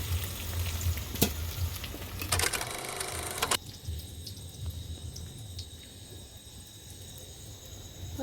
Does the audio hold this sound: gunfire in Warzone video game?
no